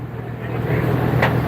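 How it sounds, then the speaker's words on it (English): A record-setting 4,461 hp Cummins diesel engine runs hard on a dyno, a loud, low, rumbling drone that swells toward the end, with a brief sharp burst near the close. "Engine's still alive."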